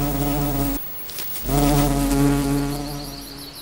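Hungry wasp buzzing close by, a loud droning hum that breaks off briefly and then resumes steadily.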